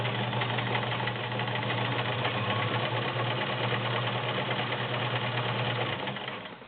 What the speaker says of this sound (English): we're just going to do some zigzag on some fabrics